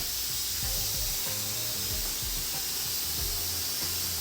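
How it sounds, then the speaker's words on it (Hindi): Onions browning in a pot for yakhni pulao, a constant bright frying hiss close by, with faint low bumps of stirring and no talking. "यहाँ पर प्याज ब्राउन हो रहे हैं"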